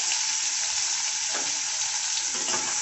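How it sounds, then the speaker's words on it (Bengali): Chopped onion sizzling in hot oil with nigella seeds, a steady bright frying hiss throughout with faint stirring scrapes, no talking. "এখন আমি পেঁয়াজ কুচোটা দিয়ে দেব"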